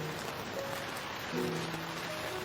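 Heavy rain drums on a giant inflatable camping tent as a continuous, dense hiss, with faint steady humming tones from an air pump running underneath.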